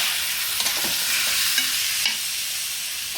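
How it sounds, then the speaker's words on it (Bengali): Ash gourd pieces stir-fried with spices in an oily pan sizzle steadily, with a spatula scraping and stirring at intervals, close and fairly loud with no voices. "জালি কুমড়াগুলো মশলার সাথে কষানো হবে"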